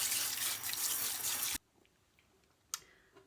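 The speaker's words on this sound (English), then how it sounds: "just rinse all of your potatoes off so you get all the dirt and stuff off of them" Tap water runs hard over potatoes in a kitchen sink for about a second and a half, then cuts off abruptly, leaving faint drips and a single sharp click afterward.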